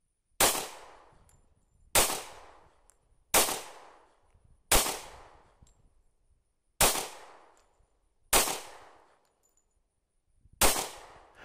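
A Smith & Wesson M&P 45 Shield pistol fires 230-grain Defender ammunition, seven loud single gunshots spaced a second or two apart, each with a ringing decay, at an outdoor range.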